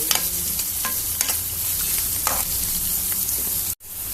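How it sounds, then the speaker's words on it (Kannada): Onion, curry leaves, dals and peanuts fry in a hot pan for mango rice, a steady close sizzle with intermittent scraping stirs, ending in a brief break. "ಈರುಳ್ಳಿ ಮತ್ತು ಕರಿಬೇವನ್ನ ಆ್ಯಡ್ ಮಾಡ್ಕೊಂಡು ಚೆನ್ನಾಗಿ ಹುರ್ಕೋಬೇಕು."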